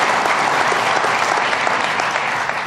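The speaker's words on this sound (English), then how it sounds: "Let's give the doctor a round of applause." Crowd applause at a government press event, a full, steady wash of many hands clapping throughout, with no voices standing out.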